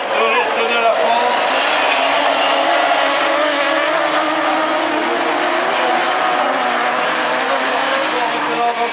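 Rallycross cars, among them a Renault Mégane, race in a French championship final, a loud continuous roar of several engines close by with a commentator talking over it throughout.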